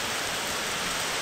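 Heavy rain pours steadily on a late afternoon in a rural hometown, a dense, continuous hiss of drops with no pauses, loud and close, with no voices.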